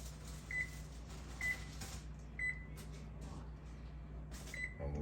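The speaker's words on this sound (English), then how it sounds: "So I'm going to set a timer for 12 minutes." A kitchen timer beeps four times at an even pace of about one beep per second, set for a cast iron ribeye steak, with a low steady hum underneath.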